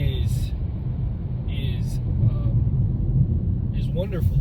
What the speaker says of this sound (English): We're just going to accelerate.